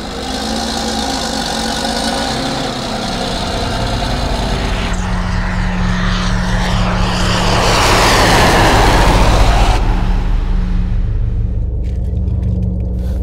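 A loud engine rumbles steadily, then rises in pitch and intensity as it accelerates before settling back; close by, with no voices.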